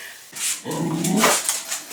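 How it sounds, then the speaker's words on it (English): A dog in a home barks close by: a short yip, then a longer, strained bark that trails into a whine, loud against a quiet room. "Why is my dog acting crazy?"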